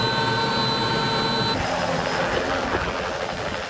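A Bell Jet Ranger helicopter used by county law enforcement flies with a steady, continuous turbine whine and rotor rumble, loud and unbroken throughout.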